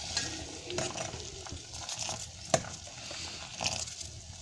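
Kashmiri chai simmering in a pot with black tea, cardamom, cloves and ginger, giving a steady low bubbling sizzle with occasional stirring clinks and scrapes, close and continuous.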